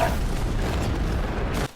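A car blows up in a film scene: one sustained, loud, rumbling blast that fills the clip and then cuts off abruptly near the end.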